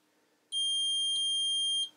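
A multimeter gives a single sustained high-pitched continuity beep of about a second and a half while testing insulated stripping pliers, clear and loud against a quiet room.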